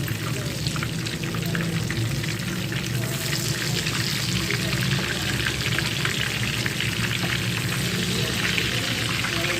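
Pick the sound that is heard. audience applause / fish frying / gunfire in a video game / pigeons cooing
fish frying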